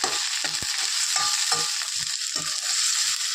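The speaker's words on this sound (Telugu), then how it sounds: "టమాటా కూడా బాగా వేగాలి" Tomato and onions frying in a pan, with a steady bright sizzle throughout and several soft stirring scrapes and clicks spaced through it, close and fairly loud with no talking.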